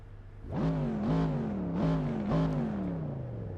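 A first-generation Mazda MX-5 Miata swapped with a Chevy LT1 V8 from a Corvette Stingray, in Assetto Corsa, revs up loudly in four rising pulls with gear changes between them, a deep burbling engine note running alone throughout.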